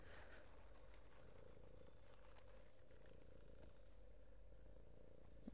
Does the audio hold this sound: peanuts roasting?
no